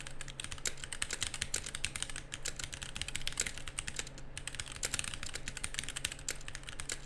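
A GamaKay K66 mechanical keyboard clacks under fast, continuous typing, dense crisp key strikes close up over a faint steady hum, with no voices.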